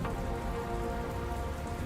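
Steady rain falling in the game Dustland Delivery, a dense, even hiss of drops hitting surfaces with no breaks and no voices.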